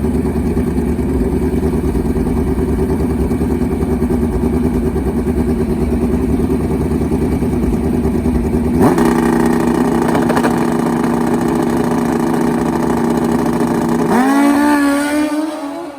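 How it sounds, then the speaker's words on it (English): Drag racing Suzuki Hayabusa motorcycle engine screaming at high revs and stuttering against the rev limiter at the track, loud and sustained, then a sharp pitch drop and rapid sputtering as the throttle closes near the end. "If you're new to drag racing too, wondering what that stutter is as England takes the win, that's the rev limiter."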